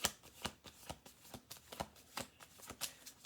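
A deck of cards is shuffled by hand close up, giving a quiet, steady patter of soft riffling slaps and flicks in a quick, regular rhythm.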